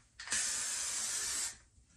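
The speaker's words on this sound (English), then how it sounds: "Take some freeze spray." Hair freeze spray bursts from an aerosol can onto styled hair in one sharp, close hiss lasting about a second before cutting off.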